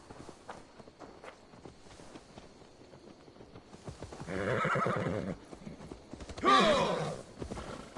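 A horse whinnies twice in the video game Assassin's Creed Valhalla, the second call louder and shriller, over soft hoof steps and quiet ambient noise.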